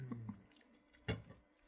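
Chocolate chip cookies being chewed up close, soft moist crunches and squishy bites, a few small munches followed by one louder bite, faint and alone.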